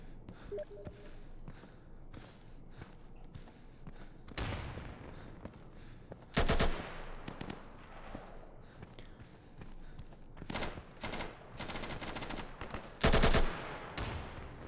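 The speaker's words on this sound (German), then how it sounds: "Ich habe wieder Beschuss, ey." Gunfire in the multiplayer shooter Insurgency, fought in the Ministry map: bursts of automatic fire and single shots crack out in several loud, close clusters, with footsteps and quieter distant shooting between them.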